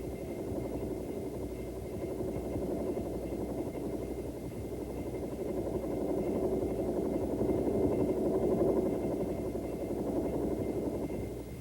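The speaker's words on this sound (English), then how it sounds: "The next basic maneuver the student will perform is a normal takeoff from a hover in the rear seat." A Bell AH-1 helicopter makes a normal takeoff from a hover at a stage field. Its steady, loud rotor and turbine drone runs continuously and swells slightly partway through, with no voices.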